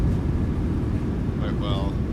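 A Boeing 737-800 on its landing roll at Tarawa, reverse thrust giving a steady, loud broadband roar that holds throughout under cabin noise, with brief tonal whines near the end.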